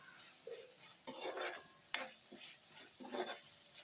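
Roasted stone flower (kalpasi) spice stirred into a green rice thokku mixture: faint, close spoon clinks and soft scraping in a few short bursts, quiet overall.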